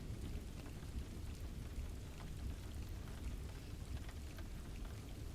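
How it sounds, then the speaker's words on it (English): Steady rain falls without a break, a dense, even patter that stays at one level throughout and seems to be heard from indoors, with no voices. "we can just listen to the rain"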